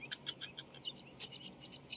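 A baby rail (tikling) chirps in quick, thin, high peeps, several short calls in a row, close and fairly soft against a quiet background.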